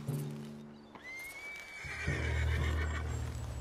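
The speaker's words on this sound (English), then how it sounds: "What's got this horse spook, huh?" A spooked horse in Red Dead Redemption 2 gives a loud, rising whinny that trails off, with low hoof clatter and rumble following.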